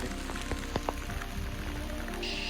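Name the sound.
rain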